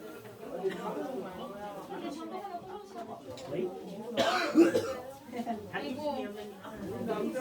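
Several coughs break through ongoing conversation during a New Year's church service, with one louder, harsher cough in the middle amid voices talking nearby.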